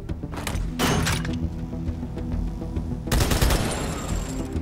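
Heavy turret gunfire in Halo 2 Anniversary Forge mode, loud repeated bursts of rapid shots with two stronger volleys near the start and around three seconds, a continuous rattle in between.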